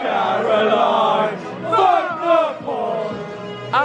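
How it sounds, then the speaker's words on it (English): Football crowd at Shrewsbury Town's ground during a match against Cambridge United, a loud, continuous roar of chanting voices with swelling bursts of shouting and cheering throughout. "just like the crowd, the atmosphere. It's brilliant."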